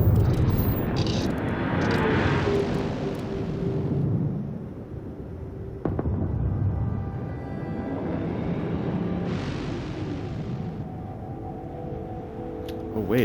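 A spaceship landing in the game Starfield: a broad, roaring engine rumble with airy jet hiss that swells, dips with a sharp thump near the middle, then surges again, continuous and fairly loud throughout.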